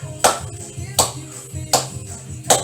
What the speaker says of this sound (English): Let's clap along, yeah.